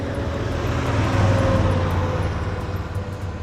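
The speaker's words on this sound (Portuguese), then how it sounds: "Caminhão." A truck engine rumbles steadily at close range, a low droning hum that swells slightly in the middle and then eases, with no speech.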